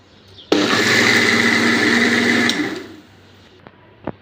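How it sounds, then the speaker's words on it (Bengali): An electric blender whirs loudly through rice, egg, milk, salt and sugar, a close, steady motor roar for about two seconds that then winds down, followed by a few light knocks. "ভাত, ডিম, দুধ, লবণ আর চিনি দেওয়ার পরে আমি এগুলো ব্লেন্ডার করে নেব"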